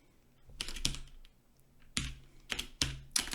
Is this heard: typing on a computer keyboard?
yes